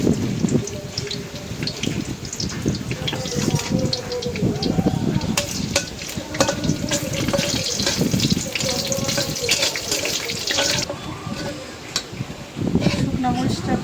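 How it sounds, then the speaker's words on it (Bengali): Dried red chilies fried hard in a pan, giving a steady dense sizzle and crackle with scattered pops throughout, loud and close, while a voice speaks over it. "শুকনো মরিচটা কড়া করে ভাজা নিলাম"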